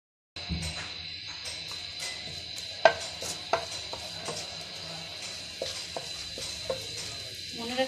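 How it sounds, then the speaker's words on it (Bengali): Spice paste and a bay leaf frying in oil, giving a steady soft sizzle with occasional clicks and scrapes of stirring; no talking. "প্রথমে আমরা তেল দিয়ে দিয়েছি, পরিমাণ মতো তেল দিবেন, তারপর পেস্টটা আর একসঙ্গে তেজপাতাটা ভেজে নেবেন"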